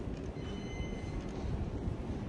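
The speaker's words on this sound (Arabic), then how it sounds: "الآن وصل المترو" An Istanbul metro train pulls in with a loud, continuous rumble of wheels and motors, and faint high metallic squeals float above the steady roar.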